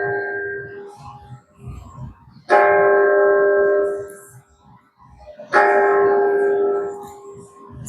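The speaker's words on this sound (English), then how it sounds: "So that's the bell at Independence Hall." The bell at Independence Hall in Philadelphia tolls loudly and nearby, with several strikes spaced about three seconds apart, each ringing out into a long hum, over faint background crowd murmur outdoors.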